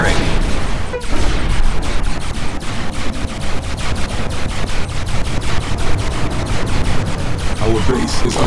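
Rapid automatic gunfire in the real-time strategy game Command & Conquer: Kane's Wrath, a loud, evenly spaced stream of shots rattling on nonstop with a sharp blast near the start.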